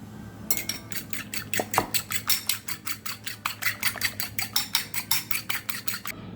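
A fork beats egg wash in a bowl with about two dozen quick, steady clinks of metal against the bowl, close and clear, with no talking.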